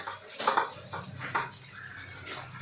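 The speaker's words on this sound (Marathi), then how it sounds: "यावरती आपल्याला झाकण ठेवायचं आहे" A metal lid goes onto a cooking pot of restaurant-style matar paneer, with a couple of close clanks and scrapes over a low kitchen hiss.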